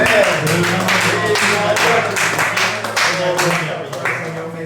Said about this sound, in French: Peut-être applaudir notre Seigneur ce matin.